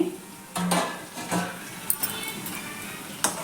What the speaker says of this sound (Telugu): ఇప్పుడు మనం మూత పెట్టేద్దాం దగ్గరగా మూత పెట్టి ఐదు నిమిషాల్లో మగ్గిపోతాయి